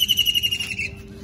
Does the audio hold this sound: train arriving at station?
no